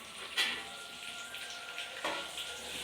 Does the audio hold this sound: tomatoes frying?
yes